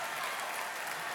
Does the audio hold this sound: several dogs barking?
no